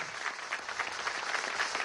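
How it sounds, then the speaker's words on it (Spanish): Steady applause from a crowd at a pediatric intensive care unit inauguration event, a dense, even wash of many hands clapping throughout, fairly distant and with no voices over it. "darle un aplauso por el trabajo eficiente que se ha hecho"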